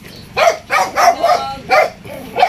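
A dog on a farm gives five or six sharp barks in a steady rhythm, loud and fairly close, with nobody talking.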